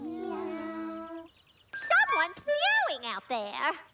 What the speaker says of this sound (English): What is all that meowing?